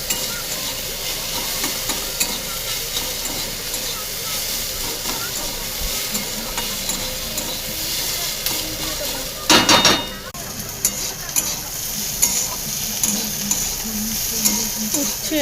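Bitter gourd and potato frying in a pan with a continuous loud sizzle and crackle and occasional stirring scrapes, and a brief burst of sharper hissing partway through.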